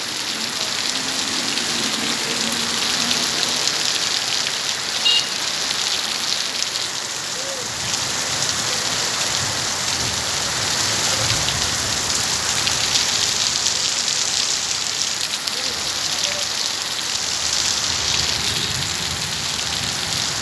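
Heavy rain falls steadily for the whole stretch, a dense, loud, continuous patter on surfaces with no break.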